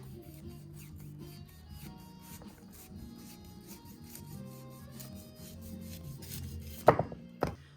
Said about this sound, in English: So I'm just going to take off about 1 inch off the bottom here carefully.